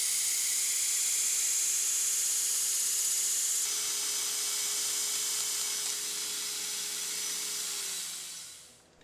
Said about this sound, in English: I'm going to use the poor man's lathe trick to shape the pommel nut